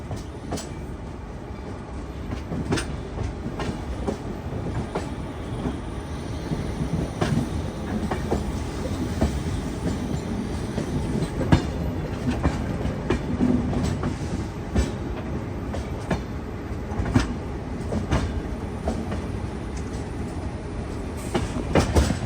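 A Kumbh Mela special train from Prayagraj pulls into Visakhapatnam Junction, its carriages rumbling and clattering over the rails in a continuous, close-up roll with repeated wheel clacks.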